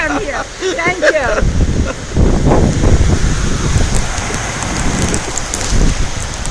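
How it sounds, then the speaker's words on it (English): Heavy rain pours down outdoors in a steady, close hiss of drops, with gusts of wind buffeting the microphone and a voice speaking over the downpour. "the rain is coming so strong blessing rain"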